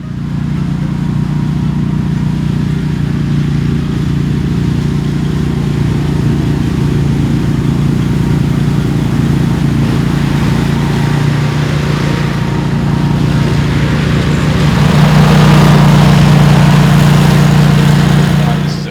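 A mower engine mowing a food plot field drones steadily and loudly up close, with a constant low hum that swells slightly louder toward the end.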